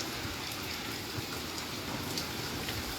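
Rain falls steadily over the hills of Reasi, an even, unbroken hiss of drops on surfaces with no voices.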